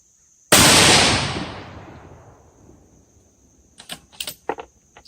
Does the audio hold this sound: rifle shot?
yes